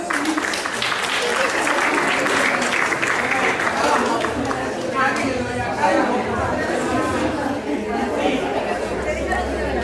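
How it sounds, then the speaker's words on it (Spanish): Audience applause at a Spanish-language life talk blends with crowd chatter and voices throughout, a steady dense wash of clapping and murmur at moderate loudness. "aplausos"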